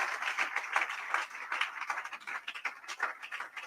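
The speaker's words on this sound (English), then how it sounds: "Please let's give a round of applause to Joseph Etim." An audience at a conference in Abuja giving a round of applause, a faint, somewhat distant spatter of hand claps rising and falling for several seconds.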